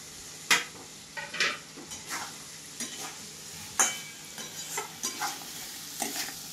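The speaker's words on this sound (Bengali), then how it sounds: "মশলাটা আমার ভাজা হইলে এবারে আমি এটা গলদা মাছটা দিয়ে দেব" Frying spice masala with golda prawns for malai curry sizzles softly as a spatula stirs and scrapes the pan in irregular taps and clatters, up close and without talk.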